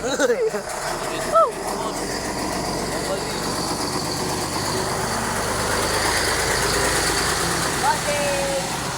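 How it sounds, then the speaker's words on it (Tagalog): A big truck engine idling nearby, a steady low rumble running evenly throughout with a few faint higher tones passing over it. "Ayan na yung malaking truck mo eh."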